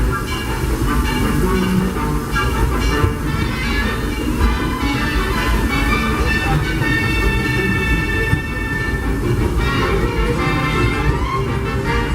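Disneyland Railroad steam train Ernest S. Marsh #4 standing at Toontown Depot, a steady loud hiss and rumble with bright whistling or ringing tones throughout, no talk.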